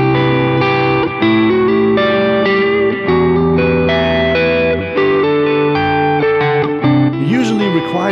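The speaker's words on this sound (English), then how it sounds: "Finding the right combination of delays and reverbs is time consuming." Sustained electric guitar chords ring out through a UAFX Del-Verb pedal, smeared with echoing delay and lush reverb, notes overlapping and trailing into a wash of sound.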